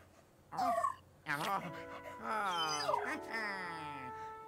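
A ghost dog in the video game Luigi's Mansion 3 whimpers and whines, with a short yip and then long, wavering, high whines close up and loud.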